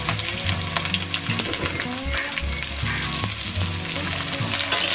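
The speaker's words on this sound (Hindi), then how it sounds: "इसे हम गोल्डन ब्राउन होने तक भूनेंगे" Spices, garlic and onion fry in hot oil in a pan while cooking jackfruit curry, giving a steady, dense sizzle with occasional clinks.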